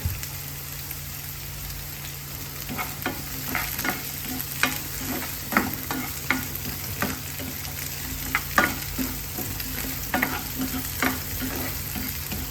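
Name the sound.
curry leaves frying and stirred in hot oil for fish curry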